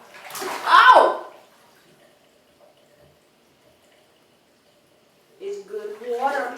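Bathwater splashes loudly in a tub for about a second while a cat is being bathed, then the room goes nearly silent. Voices come in near the end.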